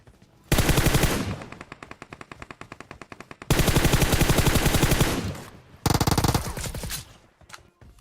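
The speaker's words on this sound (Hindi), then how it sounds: "और देखो पीछे भी गोलियां चल रही होती है" Automatic gunfire in the battle royale game PUBG Mobile: three long, loud rapid-fire bursts at close range, each a dense stream of shots, with a quieter rattle of distant fire between them.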